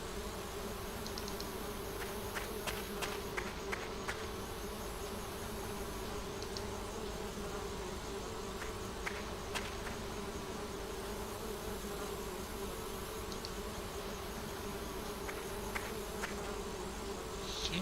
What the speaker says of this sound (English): Those bees don't look very peaceful to me.